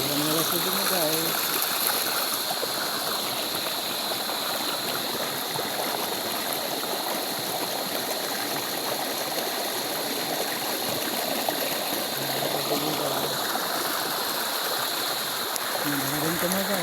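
The Laya River in Candulawan, Talisay City, Cebu, flows with a steady rushing hiss that runs throughout, while someone speaks briefly at the start and again near the end.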